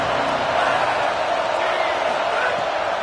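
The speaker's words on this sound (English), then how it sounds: "how nice is it to have the home crowd going absolutely bananas?" A home crowd at an Oklahoma versus Arizona State college football game roars loudly and continuously across the stadium, a broad, steady wash of cheering with no break.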